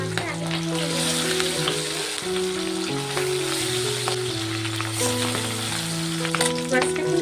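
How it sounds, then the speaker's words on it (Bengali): Pabda fish fry in hot oil in a wok, giving a steady, close crackling sizzle throughout, with a continuous tonal music bed playing alongside it. "বাকি মাছটাকে একইভাবে ভেজে নেবো"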